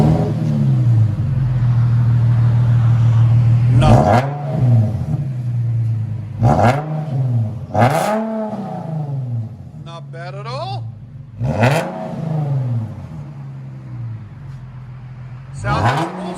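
A 2013 Infiniti G37 with a 3.7L V6, dual exhaust and muffler delete, idling loudly, then blipped in four or five sharp, close revs that rise and fall, with a person briefly speaking between them.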